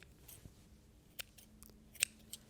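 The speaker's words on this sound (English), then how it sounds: "you can just use your fabric scissors to cut those off" Fabric scissors snip loose yarn ends off the back of a punch needle fern piece, giving a few quiet, sharp clicks spread out over a soft background hush, with no talking.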